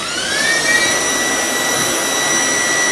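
A floor cleaning machine switches on to dampen its microfibre pad, giving a loud, steady motor whine with a high whistling tone that holds for the whole stretch, with no talk.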